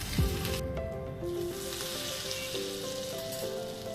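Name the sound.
ghee and chili tempering (tadka) poured into palak paneer curry, sizzling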